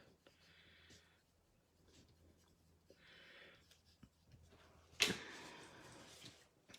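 A pen scratches out a handwritten label in two short bursts of writing strokes, close and quiet, followed by a louder rustle or knock near the end.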